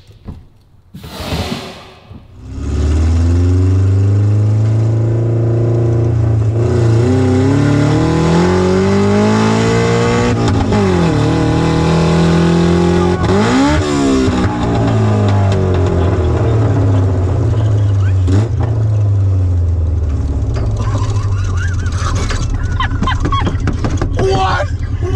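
A Mazda Miata engine fitted with hooked-up NOS roars close and loud, revving up and down in repeated sweeping swells for over twenty seconds after a brief quiet start.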